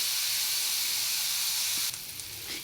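Amla (Indian gooseberries) roasting in a covered pan give off a steady, bright sizzling hiss that drops slightly softer near the end, close and continuous, with no talk.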